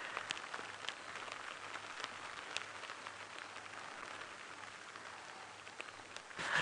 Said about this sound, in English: It's quite a bit of rain.